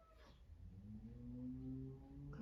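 A cat lets out a long, drawn-out meow that rises and wavers, fairly faint against a quiet background with no talking.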